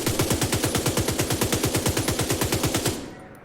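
A rapid automatic weapon in The Division 2 fires one unbroken, loud burst of evenly spaced shots for about three seconds, then stops abruptly with a short fading tail.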